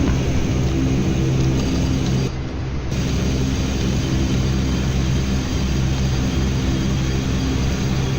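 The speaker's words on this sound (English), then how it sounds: "there's the starting of engine number one" Engine number one of a Q400 turboprop spools up during startup in the Prepar3D flight simulator game, a loud continuous droning roar with layered hum and a brief dip in the hiss partway through.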